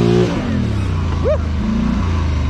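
An 850 ATV on Outlaw mud tires revving through a deep mud hole, the engine note rising and falling in loud, close surges with a whining pitch sweep midway.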